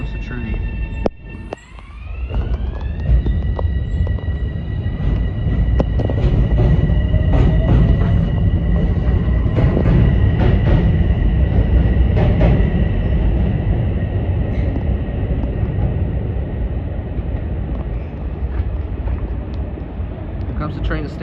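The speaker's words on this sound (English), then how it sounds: "Here goes the train." Kawasaki M8 commuter train on the Harlem Line rolling past at close range, a loud steady rumble with rising whine tones that settle into sustained hum for about twenty seconds, with faint voices underneath.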